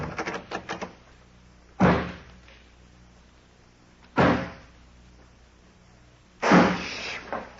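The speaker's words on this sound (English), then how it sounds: "I'll lock this door on the outside." A door is locked from the outside in an old-time radio detective drama: a few light clicks, then three heavy, separate clunks of the door and lock, spaced a couple of seconds apart in near silence.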